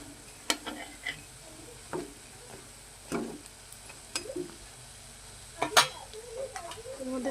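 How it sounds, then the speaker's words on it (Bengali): Fish fritters fry in a pan with sizzling, intermittent crackles and a few stirring scrapes and clinks, close and moderately quiet, with no voices. "ভালো করে মচমচে করে ভাজতে হবে, লাল লাল করে।"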